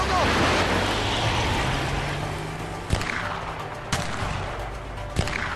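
Gunfire in the video game A Way Out: a few sharp, isolated shots ring out over a steady roar of water or surf and engine noise, spaced roughly a second apart.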